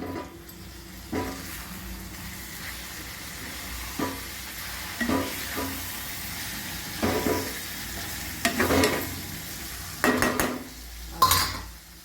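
Egg and onion curry stirred in a pan, a spoon scraping and clinking against the metal in irregular strokes over a steady background sizzle, close and fairly loud with no talking.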